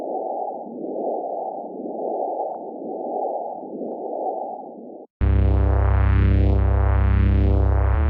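Band-limited white noise layer pulses in a slow, even rhythm, then cuts abruptly to a loud, thick, sweeping Reese synth bass tone.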